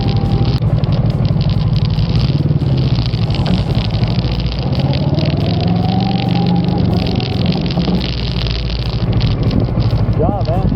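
Adventure motorcycle engine running steadily and loud throughout, with rising pitch sweeps as it accelerates and eases off under braking, mixed with wind noise and a voice talking over it.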